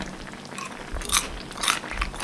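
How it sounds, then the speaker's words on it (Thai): Close-up bites into crispy fried gyoza dumplings give two distinct crunchy bursts about half a second apart, with quieter chewing around them. "เกี๊ยวซ่าอันนี้โอป้าทอดให้กรอบๆเลยนะคะ เดี๋ยวดูกรอบแค่ไหนนะ"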